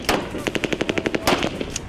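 Rapid automatic gunfire rings out during live-fire NATO military drills, a tight burst of about a dozen sharp shots in quick rhythm followed by a few heavier reports, loud and close with no voices.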